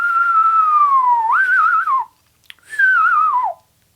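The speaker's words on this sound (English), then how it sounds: "I can whistle by sucking. You can reverse whistle. I suck air into whistle." A person reverse whistling by sucking air in, producing two long wavering tones that slide downward with trills, loud and close, separated by a short pause.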